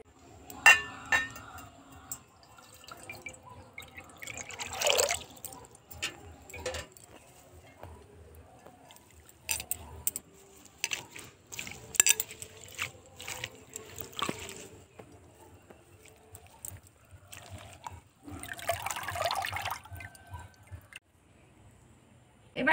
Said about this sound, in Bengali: প্রথমে জল দিয়ে ধুয়ে নেব